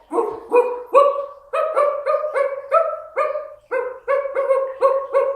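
A voice imitating a dog, barking about a dozen short woofs in a quick, uneven rhythm, close and loud.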